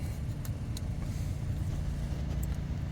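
A 2023 Roush F-150 pickup with active exhaust idles with a deep, steady rumble at close range, holding an even low drone through the clip.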